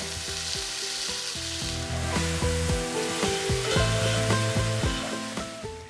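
Pieces of venison roast brown in a hot pan with a dense, steady sizzle and crackle, overlaid by shifting tonal hums and whines that build slightly toward the end; no one speaks.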